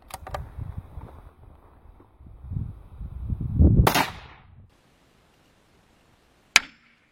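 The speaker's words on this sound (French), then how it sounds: "Alors deuxième essai cette fois-ci avec la 22 long rifle, mais on va utiliser comme balle des CCI Stinger." A single sharp .22 Long Rifle shot, using CCI Stinger ammunition, cracks out into a car door after some muffled handling and rustling, with a brief metallic ring and then silence.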